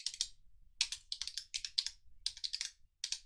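Rapid clicking keystrokes on a computer keyboard, typed in several quick bursts with short pauses between them, close and clear with no talking.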